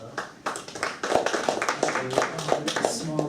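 A small, sparse round of applause from a few listeners, with quick uneven hand claps at close range mixed with voices talking over them.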